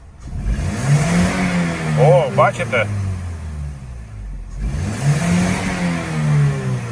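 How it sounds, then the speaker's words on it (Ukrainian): An Opel Vectra C, just fitted with a new high-pressure fuel pump after fault P1191, is revved twice at idle, each rev swelling and falling away, close and loud, with someone talking between them. "Газуємо."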